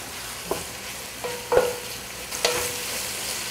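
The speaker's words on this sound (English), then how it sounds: "So you need to constantly stir the onion, otherwise it will burn." Onions frying in oil in a pan, a constant close sizzle with several distinct scrapes and knocks of a spoon stirring them, no voices.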